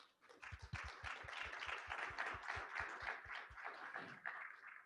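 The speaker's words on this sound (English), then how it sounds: "you all can applaud now just for a second" A small group applauds newly installed board members at a realtors' women's council installation, with a few sharp early claps swelling into steady, fairly faint clapping that fades after about four seconds.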